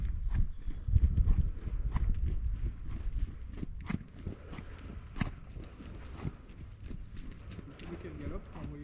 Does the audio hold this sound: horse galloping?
yes